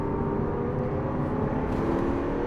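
A 740bhp Lamborghini Aventador SV drives hard on a Formula 1 circuit, its engine a loud, steady, rumbling roar heard close from on board, holding a constant strained tone without clear gear changes and no talking.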